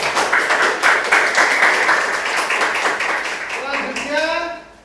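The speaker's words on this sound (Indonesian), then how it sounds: "Tepuk tangan untuk kelompok 2." Group applause in a classroom presentation setting, several people clapping in a brisk, fairly loud burst for about four seconds before it fades, with a brief voice heard as the clapping ends.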